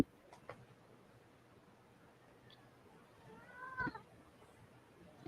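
A short, faint cat meow rises out of quiet room noise near the end, a single brief call with nothing else happening around it.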